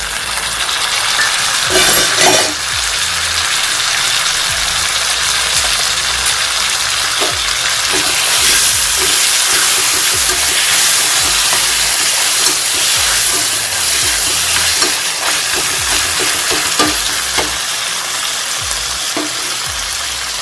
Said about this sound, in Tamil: வெங்காயம் வதங்கட்டும். வெங்காயம் வதங்கிடுச்சு. தக்காளி பழம் சேர்க்கலாம்.